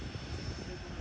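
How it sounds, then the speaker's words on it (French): A Bombardier regional propeller airplane drones steadily, its engine a low continuous rumble heard from nearby with faint voices underneath. "C'est un hélice, le bombardier, le petit là, un avion régional."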